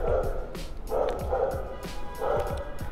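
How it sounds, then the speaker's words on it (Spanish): Dogs bark and yip repeatedly in a residential neighbourhood, a steady run of overlapping barks at moderate distance with a whimpering edge, continuing without pause. "a los vecinos y a los perros se les ocurrió hacer todo el ruido del mundo justo cuando estoy grabando"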